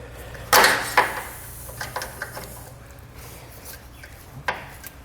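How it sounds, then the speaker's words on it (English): A metal piece from a Blue Ox base plate kit on a 2003 Jeep Wrangler is bent back and forth with pliers under pressure: a few sharp, close creaks and scrapes, with the loudest near the start and another near the end, over quiet ambience. "start bending it back and forth while we're applying pressure with the pliers"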